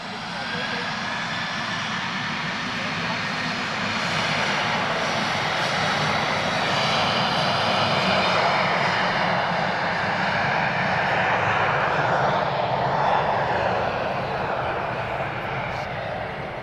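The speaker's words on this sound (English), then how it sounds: "Definitely the loudest, these 737s." Boeing 737 airliner jet engines roaring at Lisbon Airport, a loud, steady broadband rumble and whine that swells slightly in the middle as the aircraft passes, with no pause across the whole stretch.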